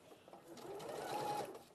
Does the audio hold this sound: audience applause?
no